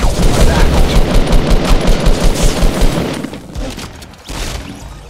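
Dense, sustained automatic gunfire in a Fortnite Battle Royale match rattles continuously at full loudness, firing rapid bursts that taper off slightly near the end with a couple of heavy thumps.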